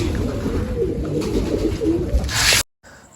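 Pigeons coo at a rooftop feeding spot where grain and water have been set out, with soft, repeated throaty calls close by, fluttering, then a sudden cut to quiet.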